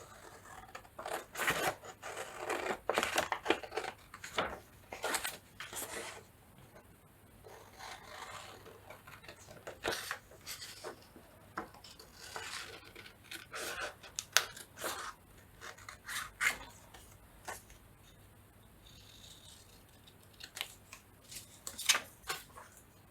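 Scissors cutting paper for a junk journal, with close, crisp snips and rustling paper repeated in irregular bursts across a quiet room.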